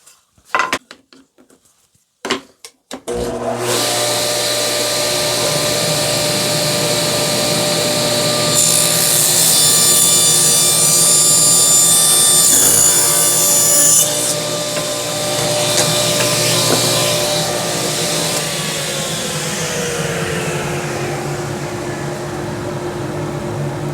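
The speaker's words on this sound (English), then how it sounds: "let's go ahead and do a rip cut and see how that turns out on the softwood." Table saw fitted with a CMT orange blade rip cutting softwood: a few clicks, then the motor spins up to a loud steady whir, the pitch rising into a harsher cutting roar as the blade moves through the wood, before it winds down.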